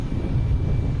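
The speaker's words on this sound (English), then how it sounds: "Next coming in is JetBlue from Wilmington." A JetBlue airliner from Wilmington roars low and steady on approach to land at Boston Logan, a loud continuous engine rumble with no talking.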